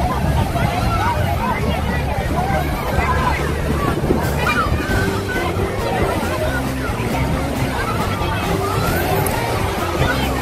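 Surf washing onto the crowded weekend beach at Bai Chay, Ha Long Bay, Vietnam, a steady broad roar of waves mixed with wind buffeting the microphone, distant crowd babble and a low boat engine hum throughout.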